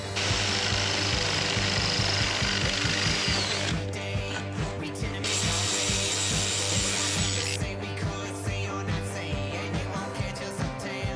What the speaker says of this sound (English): we'll drill a hole in that, put it in place, tack it